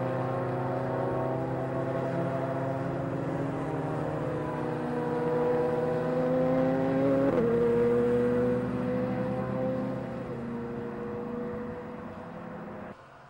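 Racing cars at the 750 MC six-hour relay, including a Spire GT3, roar past with sustained engine notes that rise and swell to a peak, shift pitch, then fade into the distance.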